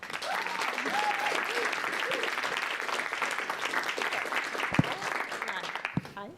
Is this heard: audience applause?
yes